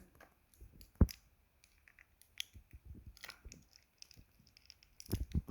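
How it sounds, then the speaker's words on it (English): Two AAA batteries are fitted into a Microsoft 850 wireless keyboard, giving a sharp plastic snap followed by scattered soft clicks, taps and rustles of handling at close range. "You have to put these two AAA batteries in the keyboard."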